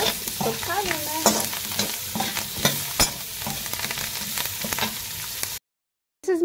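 Coriander leaves fry and sizzle in a pan with steady scraping and stirring, and a few sharper clinks over the crackle, before a short silence and a brief return of the sizzle.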